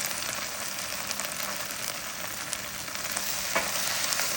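Chicken cooking with a tablespoon of tomato paste stirred through it in a pan, a steady close sizzle and frying hiss running the whole time with faint scraping of the stirring.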